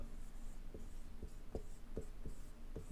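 A pen moves across paper while a Class 10 letter to the editor is written, giving soft scratchy strokes and a series of short taps spaced roughly every half second. The sound stays close and quiet, with no voice.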